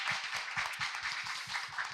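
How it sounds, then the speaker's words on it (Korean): A live audience at a Korean workplace talk-concert applauds steadily, with dense, continuous clapping from many hands filling the whole moment at an even, moderate level. "여러분의 박수와 함께 시작을 해보겠습니다"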